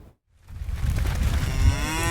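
A loud, deep, drawn-out moo from cattle on a desert cattle drive into Reno for the rodeo, rising after a brief silence and holding steady as a single sustained low call.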